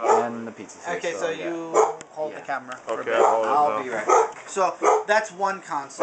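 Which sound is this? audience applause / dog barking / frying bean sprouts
dog barking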